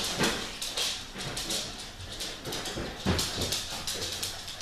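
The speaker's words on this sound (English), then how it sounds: "And you can hear my dogs walking back and forth." Dogs pace back and forth nearby, their claws clicking and tapping irregularly across a hard floor amid a rustling, noisy background.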